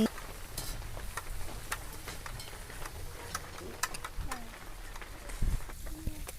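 Onions frying in a pan give a steady sizzle with stirring scrapes and clinks, a soft voice briefly heard in the background.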